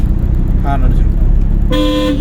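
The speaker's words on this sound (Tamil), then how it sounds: "ஹார்ன் அடிச்சிருக்கோம்." A car sounds its horn during a driving lesson: low engine and road rumble gives way to a short, loud, close honk near the end.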